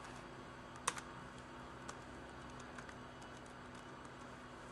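Quiet, close keystrokes on an IBM ThinkPad T30 keyboard as a password is entered: a scattered run of light taps with one sharper click near the start, alone over a faint steady hum.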